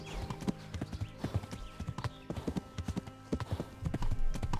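A horse's hooves clip-clop in a quick, uneven rhythm in the medieval video game Kingdom Come: Deliverance, fairly close and mixed with rustling game ambience.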